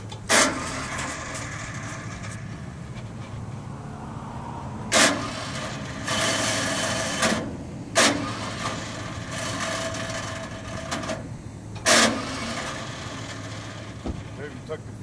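A 1954 John Deere Model 70 tractor engine runs with a steady low rumble, broken by several sharp, loud bursts at irregular intervals, heard up close.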